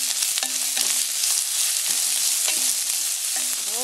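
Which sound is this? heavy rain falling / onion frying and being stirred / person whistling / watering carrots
onion frying and being stirred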